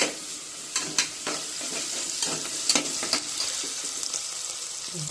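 Curry leaves and tomatoes fry with onions in a pan for a country chicken fry, a moderate sizzle broken by several sharp spatula scrapes and clinks, close and without speech.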